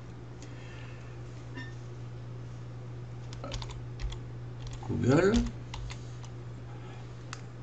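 Computer keyboard keys click sparsely and softly at close range under a steady low hum, with a short burst of quick clicks near the end.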